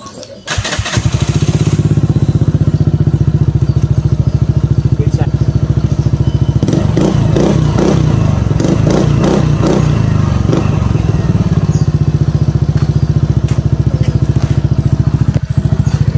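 Suzuki Burgman 125 scooter fitted with a Yoshimura R77 muffler, starting with a clatter and then idling loudly and steadily close up with a throaty exhaust note, revving briefly in the middle, with speech over it at times.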